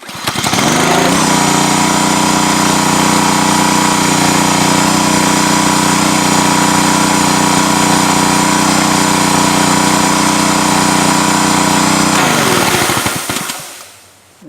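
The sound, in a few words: pressure washer engine running and labouring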